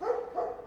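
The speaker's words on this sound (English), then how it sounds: "I hear a dog barking." A dog barks a few times at mid distance, short rough yelps in quick succession with no talk over them, heard while a player explores the island of Devil's Rock in the game Foolish Mortals.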